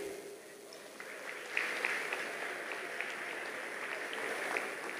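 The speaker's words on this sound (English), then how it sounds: "Let's give another round of applause to our recipients." Guests at a barristers' ball applauding award recipients, a moderate, somewhat distant patter of clapping that swells slightly after the first second and holds steady.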